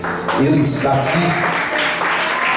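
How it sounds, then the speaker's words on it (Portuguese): Church congregation applauding during a Portuguese-language worship service, broad clapping filling the room under a preacher's voice speaking over it. "Desocupe as vossas mãos, aplauda Jesus"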